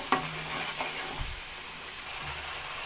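Palak paneer curry base sizzles and fries in a pan, giving a steady, dense hiss with a few brief stirring clinks and scrapes near the start. The cooking noise is close and continuous, with no talk over it.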